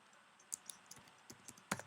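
Keys on a computer keyboard are tapped in quick, irregular, crisp clicks. The typing sounds close and is heard alone against a quiet background.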